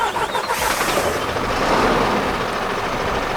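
A Mercedes Unimog U5023 truck's engine cranks and catches, settling into a loud, rough, rumbling idle close by with no talking.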